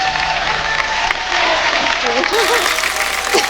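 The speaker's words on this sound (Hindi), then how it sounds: "एक बार जोरदार तालियां सोनाक्षी के लिए" Studio audience on a Hindi comedy show claps loudly for Sonakshi Sinha, a short dense burst of applause with voices speaking over it.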